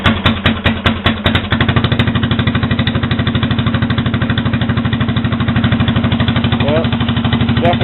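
A cold-started snowplow truck engine with no muffler, running on choke, sputters through a few loud separate firings and then settles into a fast, steady, throbbing idle close by.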